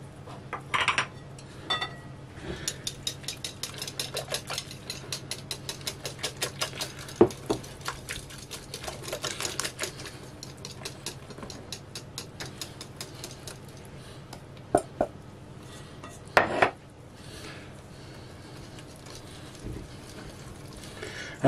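A spoon mixes flour, baking powder, olive oil and batter ingredients in a bowl, with quiet repeated scraping and clinking strokes, bursts of rapid tapping, and occasional louder knocks against the bowl over a steady low hum.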